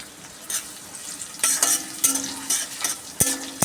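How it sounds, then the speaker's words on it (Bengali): Onion sizzles in a wok over already-fried garlic and chillies, with a loud, close frying hiss broken by several sharp metal spatula scrapes and clanks against the pan, and no talking. "রসুন ভাজা ভাজা হয়ে যাওয়ার পর পেঁয়াজ দিয়েছি।"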